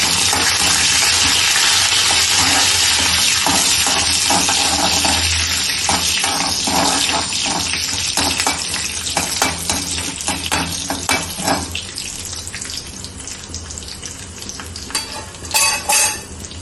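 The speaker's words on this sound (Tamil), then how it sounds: "கடுகு பொரிஞ்சதும் கொஞ்சமா உளுந்து, கொஞ்சம் கருவேப்பிலை" Mustard seeds, urad dal and curry leaves crackle and sizzle in hot oil for South Indian sambar, with loud dense frying at first that thins into scattered pops and spatters, plus occasional stirring.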